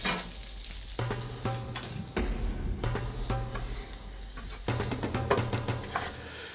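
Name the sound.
boiled rice frying in flavored oil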